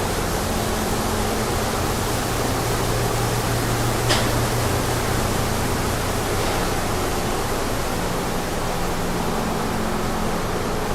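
Steady, loud rushing wash of mash pouring into a whiskey fermenter at a distillery, a continuous broadband roar with a faint low hum underneath and no pauses or talk.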